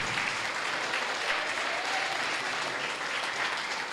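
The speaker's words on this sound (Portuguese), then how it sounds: "Aplauda e glorifique." A church congregation applauds together in a steady, dense burst of clapping that holds evenly throughout, with no talk over it.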